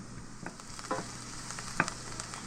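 Onions sweating gently in a pan over low heat, a soft, quiet sizzle with a few light stirring taps and scrapes, and no voices.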